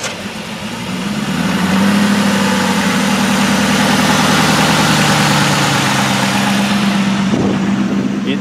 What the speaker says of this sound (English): What a great exhaust note